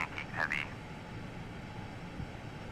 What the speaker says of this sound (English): An aeroplane.